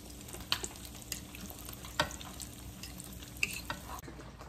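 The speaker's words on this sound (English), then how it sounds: "Now ready to fry the zucchini." Soft, steady sizzling of zucchini slices frying in butter in a pan, with occasional light pops and clicks, close and fairly quiet.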